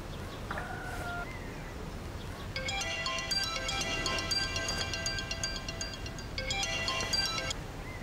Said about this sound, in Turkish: Bari bizim Armut'u arayayım da Tülay'ımdan bir haber alayım ya